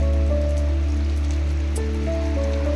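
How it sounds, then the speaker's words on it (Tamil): Heavy rain falling near the Tamil Nadu–Kerala border pours as a continuous loud, dense hiss with a deep steady rumble and no voices. "நல்ல மழைனா நல்ல மழை பெய்யுது."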